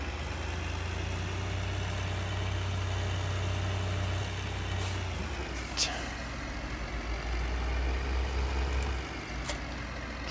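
A tractor engine in the Farming Simulator 2013 video game idles and drones steadily with a low hum that shifts in pitch partway through, overlaid with a few sharp hiss-like clicks.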